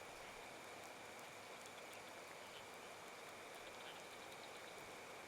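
Rain in the survival video game Card Survival: Tropical Island, a steady, faint hiss of falling rain and patter on surfaces that continues evenly throughout.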